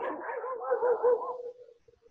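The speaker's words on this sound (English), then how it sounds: "Okay, we got some dogs." A dog gives a drawn-out, whining howl that wavers for about a second and a half, then trails off into a few short faint yips. It is fairly close and sounds alone.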